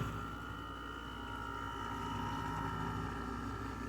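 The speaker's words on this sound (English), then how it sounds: "There goes the compressor." An LG 6,000 BTU window air conditioner's compressor runs with a steady, low droning hum and a faint whine layered over it, continuous and close.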